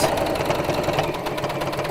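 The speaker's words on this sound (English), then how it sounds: "when your sewing machine pushes it around, like that has" A sewing machine with a walking foot runs steadily, stitching stretchy fleece fabric, its motor giving a continuous mid-pitched whirring hum with a rapid mechanical rhythm throughout, fairly close and without talk.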